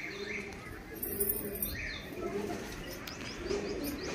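Madrasi ablook pigeons in a Kolkata loft, including a breeding pair, coo steadily at close range with repeated low murmuring calls, mixed with scattered chirps from other birds and a brief flutter of wings.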